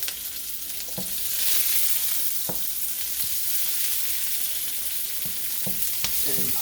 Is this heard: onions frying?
yes